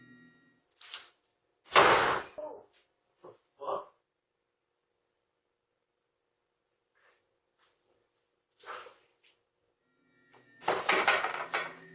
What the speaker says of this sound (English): One of the doors is aggressively yanked shut